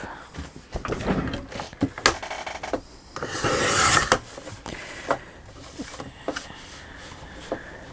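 Paper edges being trimmed for a mini album, heard as close, uneven scratchy cuts and rasping strokes with a few brief louder swipes.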